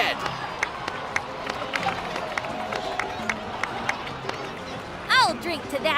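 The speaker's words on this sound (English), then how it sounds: "please give another round of applause for them" In Genshin Impact, a Natlan crowd honoring its heroes claps and cheers in a steady, busy patter. Sharp individual claps stand out against the background, and a brief rising voice-like cry breaks through near the end.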